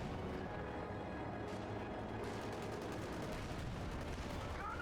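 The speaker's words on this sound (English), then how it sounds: "Valonians are being hit by artillery." In a war video game, artillery rounds hit Valonian forces with dull, muffled booms and crackling bursts that swell and fade beneath a low continuous rumble of battle noise.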